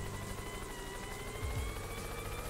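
A helicopter in the Yooka-Laylee video game gives off a steady, loud whirring drone that fills the whole stretch without a break, with no voices over it.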